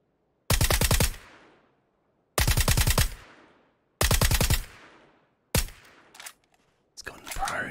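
Automatic gunfire in PUBG on Xbox One X, three loud, close bursts of rapid shots, each about half a second long with a decaying echo tail, followed by shorter scattered shots and louder noise.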